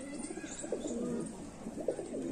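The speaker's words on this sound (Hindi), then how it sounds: "ये किकर वाला कबूतर है" Kikar breed pigeons cooing at a home loft in Jammu, soft repeated low coos over steady ambient noise, close and moderately quiet, with no one speaking.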